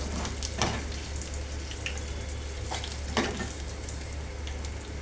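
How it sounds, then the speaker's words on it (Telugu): A steady sizzle of peanuts and green chillies frying in a pan for guava chutney, close and even, broken by a few sharp scraping or stirring clacks and no talking. "మంచిగా వేయించుకోవాలి పల్లీలు"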